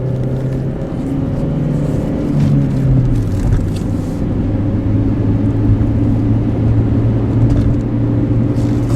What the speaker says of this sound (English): Once you got the clutch let out, you can hit the gas as much as you want.